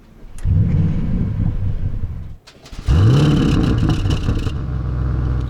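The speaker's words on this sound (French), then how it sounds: "Les valves sont ouvertes, on démarre," An Audi RS engine starts in sport mode with its exhaust valves open, a loud cranking bark that settles into a deep idle, then after a brief dip a second start and rumbling idle with revs rising.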